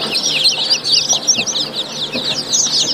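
Many native (desi) chicken chicks cheep continuously in a dense, high-pitched chorus, close by and fairly loud, with no pause.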